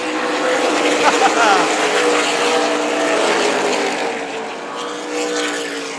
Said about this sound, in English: 3 wide down the back straightaway. 3 wide, 3 wide.